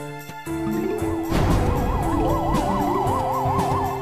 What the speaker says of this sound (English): whenever like the flag zombie comes up, the huge wave is coming or whatever, you can hear the drums start coming in the background